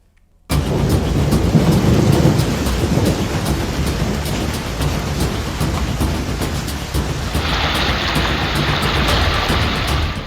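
Heavy monsoon rain pouring down in northeast India, a loud, steady wash of rainfall with low rumbling like thunder beneath, continuing without a break and brightening into a harsher hiss near the end.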